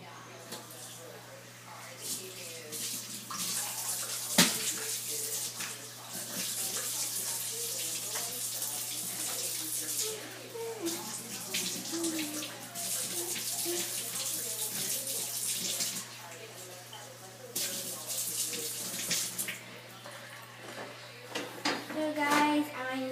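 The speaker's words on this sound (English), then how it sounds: "I'm going to make sure I wash these things first." Chocolate bar maker parts being washed by hand under a running kitchen tap, a steady broadband water rush lasting throughout with small clinks and handling noises, close and fairly loud.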